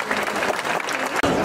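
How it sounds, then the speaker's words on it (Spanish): A crowd at a bicentennial ceremony in the main park of Charalá, Santander, commemorating the Battle of Pienta, breaks into loud sustained applause, dense clapping close by with a brief dip before it swells again. "Recibámonos a todos con un fuerte aplauso."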